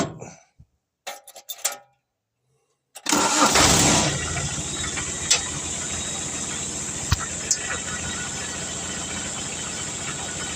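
Small 4x4 garden tractor engine starting after a breakdown: a few clunks and a short crank catch into a loud start, then a steady close idle with occasional knocks.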